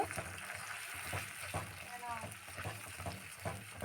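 Ginger and green chilli paste frying in a pan, a soft continuous sizzle with light scraping and stirring taps throughout, faint and close.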